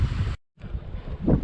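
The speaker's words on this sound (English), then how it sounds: "This is windy." Wind blowing outdoors on a Welsh coastal walk near a beach and river estuary, buffeting the microphone in loud rumbling gusts that briefly cut out, then return and swell near the end.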